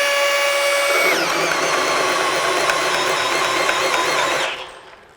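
A Milwaukee M18 compact brushless drill drills steadily at high speed, a loud close motor whine with a shift in pitch as it bites in, running unbroken before winding down at the end.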